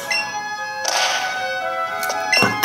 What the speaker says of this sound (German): Schubst den Stein jetzt hier quer durch die Höhle.